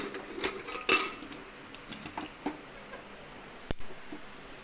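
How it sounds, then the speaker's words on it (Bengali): A pressure cooker lid being set and closed while steaming hilsa, producing several sharp metallic clicks and clinks, with one loud clack near the start and another later, alone without talk. "প্রেশার কুকারে ঢাকনাটা বন্ধ করে দেবো"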